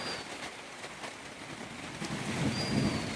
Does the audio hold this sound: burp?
no